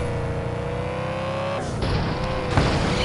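Car driving in a sheriff and park ranger video game: a loud, continuous engine drone that shifts pitch partway through, as if changing gear or revving, with no talk.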